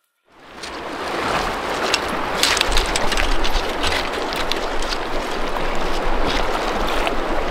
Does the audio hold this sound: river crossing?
yes